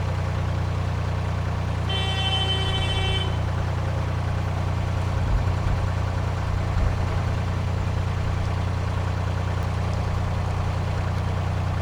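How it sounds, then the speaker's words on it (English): A single long boat horn blast at a canal junction on the Welford Arm sounds over a steady low engine rumble, which keeps droning after the horn stops. "I think I'll sound my horn."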